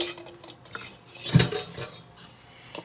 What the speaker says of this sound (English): And then stir, stir, stir